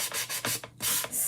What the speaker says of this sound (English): I love just sanding that down.